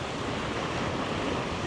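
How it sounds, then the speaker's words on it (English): Continuous roar of ocean surf on Aitutaki in the Cook Islands, with wind noise buffeting the microphone, loud and unbroken. "I can hear the ocean in my ears."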